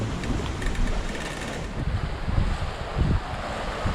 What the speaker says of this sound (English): Bigger waves at times,